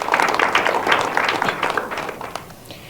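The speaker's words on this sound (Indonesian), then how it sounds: "Boleh tepuk tangan kembali?" A studio audience claps at a televised dialogue forum, with a short burst of applause that is loudest at first and fades out after a couple of seconds.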